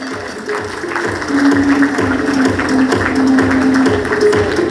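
An audience at an animation and VFX careers panel keeps applauding a guest being introduced. Steady clapping sits under a rhythmic music track with regular low beats.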